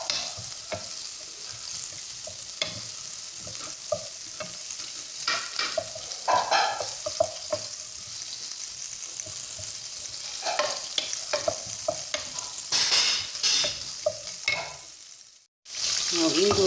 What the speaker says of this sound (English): Medium low heat, I'm going to add in some butter. And this. Let it melt first.